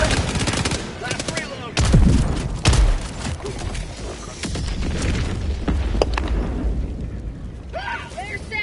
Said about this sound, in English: Calling in orbital strike. Firing orbital strike.